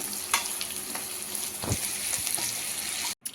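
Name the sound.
gongura (sorrel) leaves frying in a pan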